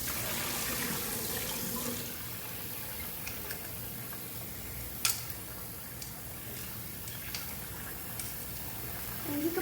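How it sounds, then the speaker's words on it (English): Tap water runs steadily while rice is rinsed, a faint continuous hiss with a few light clicks and clatters. "once the water runs clear, you know it's time to go ahead and just put your water in the pot to cook."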